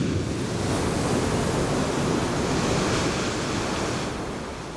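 Heavy stormy ocean waves pound steadily against a moored boat held in port, a loud continuous roar of surf and wind that eases slightly at the end.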